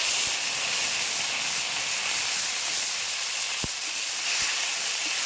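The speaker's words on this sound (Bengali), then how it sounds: "তেলের উপরে দিয়ে দিচ্ছি গোটা তেজপাতা গোটা শুকনো লঙ্কা গোটা জিরে বেটে রাখা আদা" Bay leaves, dry red chillies, whole cumin and ground ginger hitting hot oil, a loud continuous hissing sizzle with a few faint ticks and pops, close up and with no talk.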